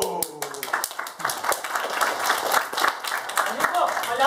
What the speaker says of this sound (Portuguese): Palmas para o palhaço gringo.